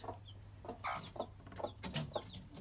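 Chickens cluck softly near the nesting boxes where chicks are kept. Faint, irregular clucks and short calls sit over a low background hum, fairly distant and quiet.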